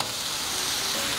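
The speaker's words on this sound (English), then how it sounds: "let's give these sausages a flip" Sausages sizzle loudly and steadily as they are flipped on a Camp Chef Gridiron griddle, a dense continuous frying hiss with no talking.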